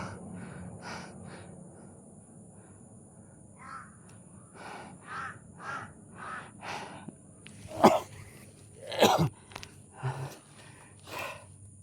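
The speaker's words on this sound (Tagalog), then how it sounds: "Yan, tingnan yung uwak, guys. Napakadami yung uwak." Several crows cawing repeatedly outdoors, harsh calls spaced across the clip, with two louder, closer caws standing out near the end.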